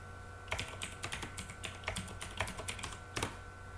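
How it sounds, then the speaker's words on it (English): Irregular clicking keystrokes on a computer keyboard as a password is typed, close and fairly quiet, in a short burst of about a dozen taps. "now I'm going to type in my NetID password."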